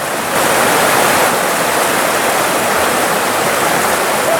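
A small waterfall on the Rose River in Virginia, where trout fishermen work the water, pours in a steady loud rushing hiss close by, continuous and unbroken, with no voices.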